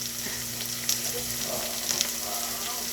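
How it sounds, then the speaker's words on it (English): Rice being added to onions frying in a pan for Indian yellow rice, giving a steady close sizzle with a few soft stirring scrapes and clicks on top. "so I'm going to go ahead and add the rice to it"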